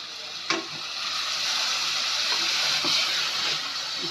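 One kilogram of chicken sizzles and fries in a pan over a medium flame for a bottle-gourd chicken dish. A sharp clatter opens a steady hiss that carries on close and unbroken, with a few soft stirring knocks.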